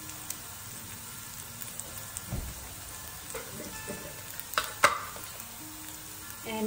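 Ginger-garlic paste frying in a little oil for dal tadka, a quiet steady sizzle with a few soft stirring clinks and scrapes, no talking.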